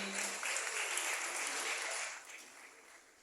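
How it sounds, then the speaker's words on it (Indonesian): Audience applause for a deputy of Indonesia's national development planning ministry at a youth forum, a steady broadband clatter of many hands that holds for about two seconds and then fades out. "Tepuk tangan buat Kang Amih."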